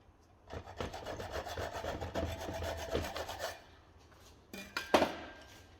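A hacksaw cuts across a small metal bolt to clean up its threads, giving a close run of steady rasping back-and-forth strokes, followed by a pause and a few sharper metallic scrapes, with no talking.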